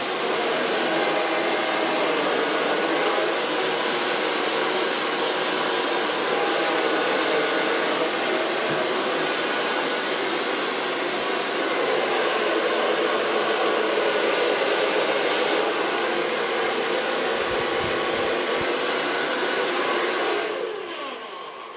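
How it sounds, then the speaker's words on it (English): A hair dryer blow-dries hair during a salon autumn cut and color, giving a continuous loud whirring blast that holds steady for about twenty seconds before cutting off near the end. "So far blow drying."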